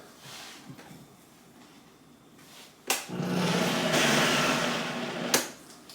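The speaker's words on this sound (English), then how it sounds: "And one final spin in the blender." A blender whirs up with a sharp start, running loudly and steadily for a few seconds before cutting off with a click.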